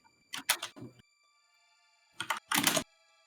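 Keys clatter on a computer keyboard in two short bursts of rapid typing, quiet and close, separated by a pause of near silence during a Dungeons & Dragons character creation session.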